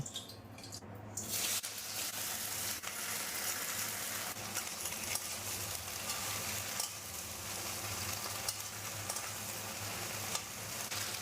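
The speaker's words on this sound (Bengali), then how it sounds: "তেল গরম হয়ে গেছে, ভেন্ডিটা ভেজে নেব।" Okra frying in hot mustard oil in a kadai, a continuous close, bright sizzle and crackle that holds steady throughout with occasional pops and stirring sounds.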